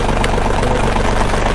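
A Mahindra OZA tractor engine idles close by, a steady loud low throb with even pulsing and no other sounds.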